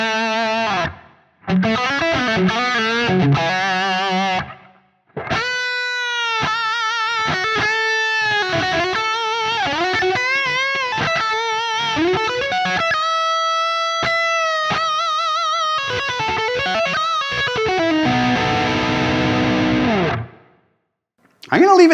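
Distorted electric guitar through a Neural DSP Soldano SLO-100 amp plugin with a touch of room reverb, playing sustained high-gain lead phrases and bends, loud and close, with short silent gaps between runs.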